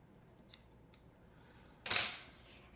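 A single sharp snip of scissors trimming a wooden piece for a model sailing pram's transom, close and crisp, after two faint taps in a quiet room.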